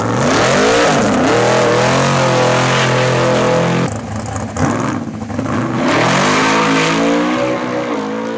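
Drag race car with a new engine on its first run at a motorstadion test and tune, loud roaring engine revving close by, dipping briefly mid-run then surging again, with no talk.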